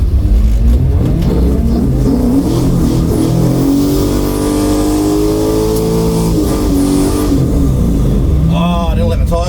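A Chevrolet-powered drag car at a dragway roars through a burnout, engine revving loudly and holding high, with pitch sweeps and a closing rev burst, heard close and continuous.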